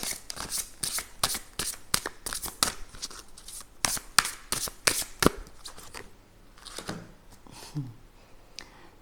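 Oracle cards shuffled up close in a quick series of crisp riffling slaps and papery flutters, faint and irregular, tapering off near the end.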